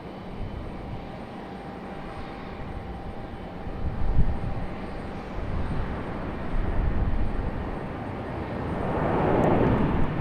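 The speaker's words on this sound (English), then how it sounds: "Barely any tire smoke for this touchdown" An airliner touching down at Raleigh-Durham airport in a headwind: a broad, steady engine roar of jet noise and rushing air fills the whole stretch, swelling slightly midway and again toward the end.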